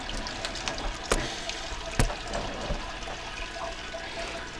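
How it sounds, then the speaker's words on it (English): Liquid draining and dribbling out of a homebrewing vessel, a continuous hissing trickle of water with a few soft knocks, steady and close throughout. "I'm just going to let it dribble."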